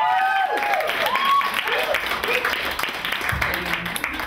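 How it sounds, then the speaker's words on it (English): An audience applauding a performer at a spoken-word poetry event, a burst of clapping that fades out over a few seconds as a voice talks over it. "Give him another round of applause"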